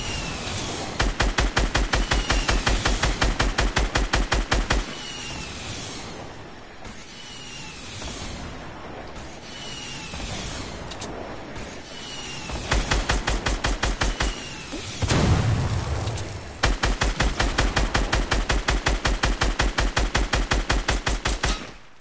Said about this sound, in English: You got the AR shots, bro.